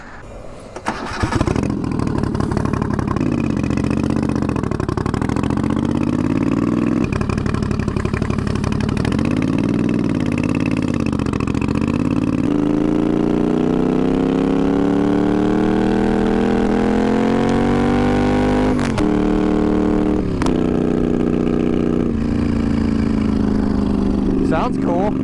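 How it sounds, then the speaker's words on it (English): A twin-turbo Moto Guzzi V50 III cafe racer starts up and runs loud and close, its engine revving and falling, then droning steadily with a rising pitch for a long stretch, with a couple of sharp pops near the end. "I hope the camera's picking up the sound of the turbos, because you can definitely hear it"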